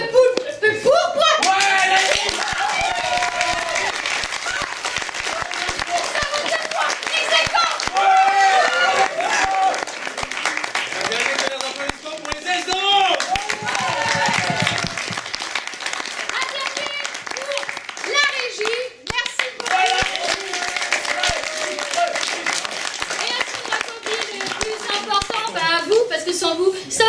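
A crowd at an improv theatre show applauds for nearly half a minute, a dense sustained clatter of hands with children's and adults' voices calling out over it now and then.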